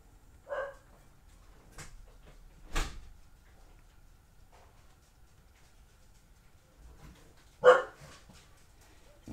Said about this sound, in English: My puppy dog's barking because my husband just walked in the door.